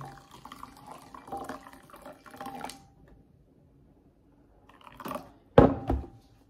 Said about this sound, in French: tu prends ton eau chaude, tu peux rajouter un peu d'huile d'olive pour pas que ça colle, un peu de sel, un peu d'épices. Et ensuite, tu verses l'eau chaude directement